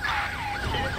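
A police car siren in the video game GTA 5 wails at a distance, its pitch sweeping up and down at a faint level over a low background rumble.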